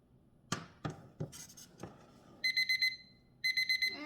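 A kitchen timer alarm goes off while a roast beef and mashed potato dinner is cooked, two bursts of rapid high electronic beeping following a few sharp clinks and knocks of kitchen utensils, fairly close.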